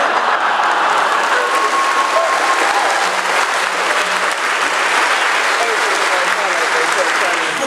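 Steady audience applause from a comedy music show in London, sustained and loud throughout with crowd noise mixed in.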